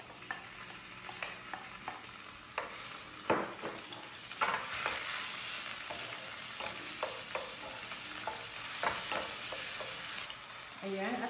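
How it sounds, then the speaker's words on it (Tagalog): Chicken and garlic frying in a pan, with a steady sizzle throughout and repeated scraping and clacking as the mix is stirred, loud and close with no talk. "Mix ko lang siya ng konti. At add ko na rin itong chicken"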